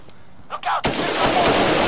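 Gunfire in the video game Insurgency: a short burst of shots, then a loud blast that rolls into a sustained crackling roar with further sharp reports close by.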